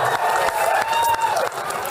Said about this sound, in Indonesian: Tepuk tangan dulu, lihat tepuk tangan dulu.